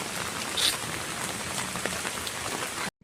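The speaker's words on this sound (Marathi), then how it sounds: "पाऊस खूपच आहे" Heavy rain pours down on a garden in Thane, a dense, even hiss of drops on surfaces that stays close and constant before cutting off abruptly.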